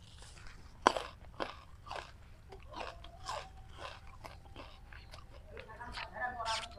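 Fodder plant stalk for goat silage bitten and chewed near the mic, a series of crisp crunches and chewing sounds over soft background with a voice speaking quietly.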